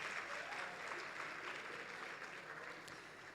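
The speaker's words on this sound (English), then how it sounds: "Let's give all of our judges a huge, huge round of applause." A hall audience at a citizens-of-the-year awards ceremony gives a round of applause for the judging panel, continuous dense clapping heard at a modest distance, easing slightly toward the end.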